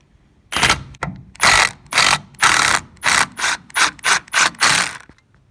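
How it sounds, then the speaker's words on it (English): A Milwaukee power ratchet with an 11mm socket runs on a turbo bolt in loud, close bursts of whirring ratchet clicks, about ten short pulses separated by brief gaps. "we got our 11mm hooked up on our Milwaukee, so we'll just go ahead and take this off"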